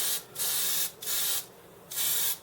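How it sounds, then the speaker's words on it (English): Aerosol spray paint hisses in three long bursts with short gaps, coating a crank part white; close and steady, alone with no voices. "what we're going to do is just spray it all white"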